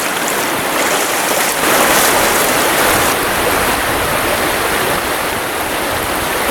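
Fast-flowing, roughly foot-deep river water rushing past a spot where someone is spring nymph fishing: a loud, steady broadband wash of churning current, close by, with no voices.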